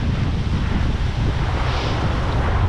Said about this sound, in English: It's pure white water, people.